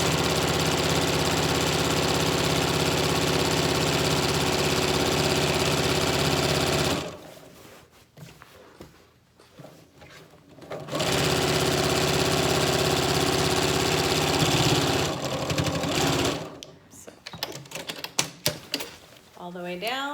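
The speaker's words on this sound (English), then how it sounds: "I'm just showing you just with the sewing machine." A sewing machine stitches a Yup'ik qaspeq in long steady runs, pausing in the middle and then starting again before stopping with a few rattling clicks near the end; a voice is audible faintly under the machine.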